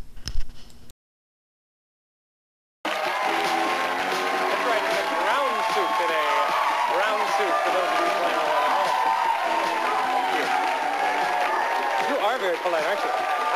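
A studio audience at the Dating Game television show breaks into loud, sustained applause with cheering after a brief noise and a short silence, the clapping dense and steady until the end.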